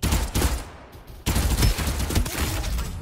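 Rapid bursts of automatic gunfire in the battle-royale shooter Farlight 84, loud and close, with a brief gap before the firing resumes just as hard and keeps going to the end.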